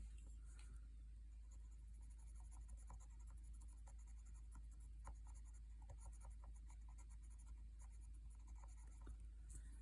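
A purple colored pencil scratching across paper while coloring, a soft, continuous close-up scratching with quick back-and-forth strokes over a low steady hum.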